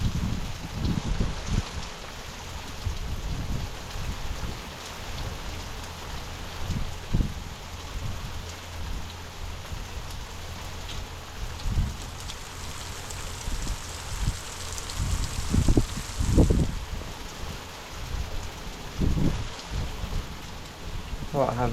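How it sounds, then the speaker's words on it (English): Heavy rain with huge raindrops lashes down on an exposed hill walk towards Trevose Head. The hiss is dense and continuous, and deep rumbles of thunder swell in and out, strongest near the middle and end. "Perfect time for the rain to get heavy"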